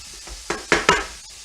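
Onion and celery frying in a pan are stirred with a few distinct scraping strokes over a soft background sizzle, close and moderately loud.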